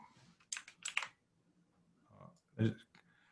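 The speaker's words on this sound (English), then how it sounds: "That clicking sound you heard was me trying to Control or Command Z." Computer keyboard clicking in short bursts as keys are pressed to undo, a few close, crisp taps separated by pauses, with quiet room tone between.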